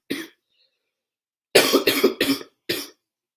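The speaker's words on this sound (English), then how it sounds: "Oh man, this cough is killing me right now." During a baseball playoff broadcast, a man coughs close to the microphone: a single short cough, a pause, then a quick cluster of three coughs and one more.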